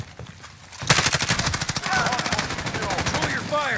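Call of Duty: Modern Warfare gunfire: after a quiet moment, a loud, rapid machine-gun burst erupts into sustained automatic fire, with game voices shouting over it.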